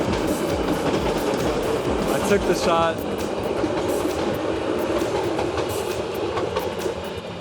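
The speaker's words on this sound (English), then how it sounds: "The train came a couple seconds before I was expecting" A train rumbles past on a city railway with a steady clattering roar and brief wheel squeal, close and continuous under a short spoken remark.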